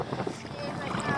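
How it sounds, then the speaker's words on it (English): Blustery wind buffets the microphone over a lake in Algonquin Park, a constant low rumble, with faint talk. "The wind is pushing us like crazy."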